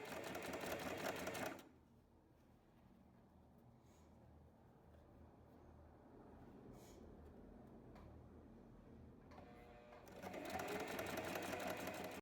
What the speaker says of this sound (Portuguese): Agora eu posiciono o viés aqui e vou costurando aqui